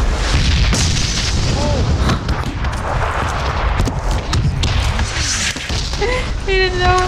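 A grenade blast in the battle-royale shooter PUBG: a loud, broad boom sits amid a steady barrage of game gunfire and explosions, with voices talking over the action.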